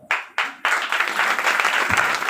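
After a girl sings a bhajan at a temple discourse gathering, an audience bursts into applause, starting with a few separate claps before settling into dense, continuous clapping that stays loud to the end.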